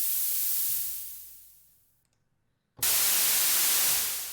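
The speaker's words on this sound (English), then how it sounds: "violet, this is a high pass noise," Violet high-pass noise from a SynthMaster 3 synthesizer's noise oscillator: a bright, thin hiss that sweeps away to silence, then a loud steady burst of sharp, treble-heavy noise cuts back in.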